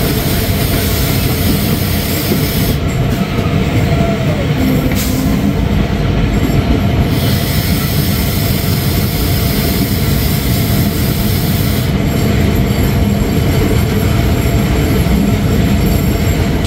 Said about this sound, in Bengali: ট্রেনটি প্রবেশ করছে তার আরও একটি যাত্রা বিরতি স্টেশন ফুলবাড়িতে